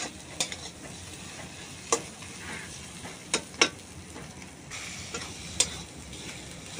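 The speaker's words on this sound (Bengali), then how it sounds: "দেখতে পাচ্ছ কত সুন্দর মশলাটা আমি ভাজা করে নিচ্ছি" Masala spices frying in oil in a pan for a rohu fish curry with purple cauliflower, giving a steady soft sizzle broken by sharp scraping clicks as a spoon stirs at irregular moments.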